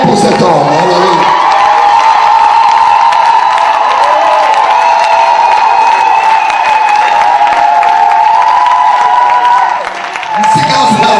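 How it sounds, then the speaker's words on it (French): Congregation at a French-language church service applauding and cheering, a loud sustained roar of clapping and shouts that fills the space, fading briefly near the end. "Acclamez pour cet homme."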